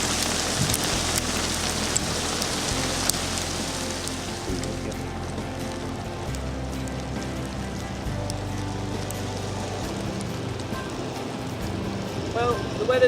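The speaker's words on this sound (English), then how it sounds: "and then it decided to rain and hail." Rain and hail fall steadily on an outdoor cooking spot on a fishing outing, a continuous dense patter with a low rumble beneath and occasional faint voices mixed in.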